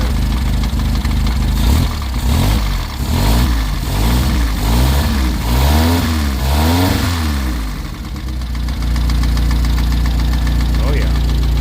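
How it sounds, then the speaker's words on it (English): A 1940 Austin Bantam Riviera's small four-cylinder engine cranks with a rhythmic chugging, catches, and settles into a loud, steady idle with rough revving, close by and continuous. "See under the bonnet here, a little 4-cylinder. See if we can get her going here."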